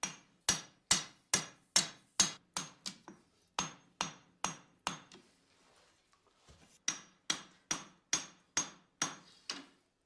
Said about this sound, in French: martèle la barre d'acier